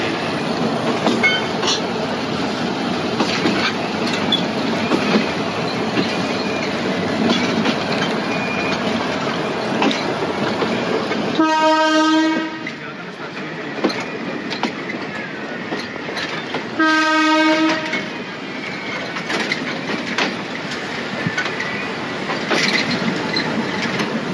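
A 100-year-old heritage tourist train runs from Ambarawa to Tuntang, its steady rumbling roll broken by two long, loud horn blasts, one around the middle and another a few seconds later.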